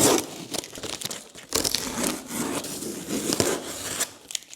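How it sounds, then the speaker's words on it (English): Painter's tape being peeled off a box, a series of rough tearing and rubbing strips in irregular bursts, close and fairly loud. "I'm gonna go ahead and take this painter's tape off"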